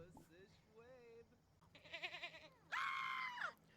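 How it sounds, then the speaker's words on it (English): A Sims 4 character screams in several shrill, wavering bursts, with the last one the loudest and longest, against quiet game sounds. "The scream scares me every time."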